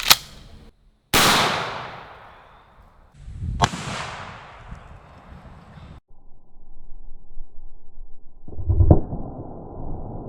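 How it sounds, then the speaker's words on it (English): A shotgun fires double-aught buckshot with several loud, sharp blasts spaced a second or more apart, each ringing out and decaying, followed by quieter handling noise and a final thud, with no talking. "All right, here goes the buckshot,"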